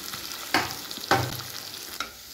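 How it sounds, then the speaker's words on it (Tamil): Onions frying toward golden brown sizzle quietly while a spatula knocks the pan three times in uneven succession, each clank close and brief. "வெங்காயம் போட்டு நல்லா இது பார்த்தீங்கன்னா கொஞ்சம் நல்லா பொன்னிறமாக நம்ம வறுத்து எடுத்துக்கலாம்"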